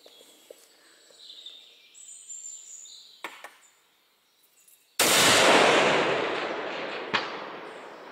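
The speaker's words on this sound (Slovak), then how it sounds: "Takže strieľam." A rifle firing a 140-grain VLD handload at a 10 cm steel gong 500 metres away, with quiet outdoor ambience before it. One sudden loud blast rings out and decays slowly, followed by a faint distant tap.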